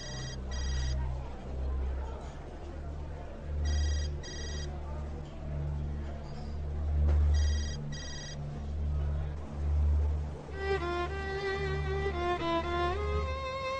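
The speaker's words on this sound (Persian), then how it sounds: "صفیه جواب ده با تلفن" An old-style telephone bell rings in repeated bursts in a dubbed TV drama, loud and close over low background music, with a melodic music passage toward the end.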